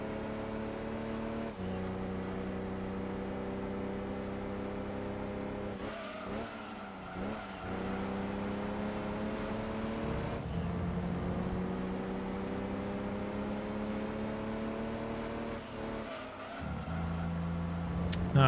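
A Lancia Stratos in Gran Turismo holds a steady buzzing engine note through gear changes, with tyres squealing and skidding as the car slides sideways, close and continuous with no talking.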